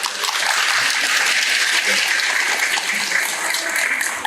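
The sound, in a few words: audience applause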